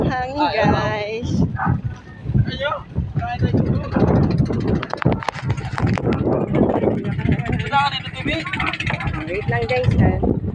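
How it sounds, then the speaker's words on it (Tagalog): Gusty wind at a resort buffets the microphone in low, rumbling bursts beneath nearly constant talking. "Lakas po ng hangin"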